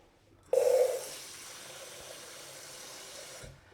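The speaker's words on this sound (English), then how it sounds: "I'm just going to pop in some water." Water pours steadily into a Thermomix bowl with a sudden start, a brief louder splash, then an even, continuous stream for about three seconds before stopping.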